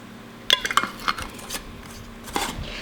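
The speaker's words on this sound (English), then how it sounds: "And put on a lid." A lid going onto a glass jar of homemade fermented pickles filled nearly to the top, a few sharp clinks and taps in quick succession, then a final clack, close and alone.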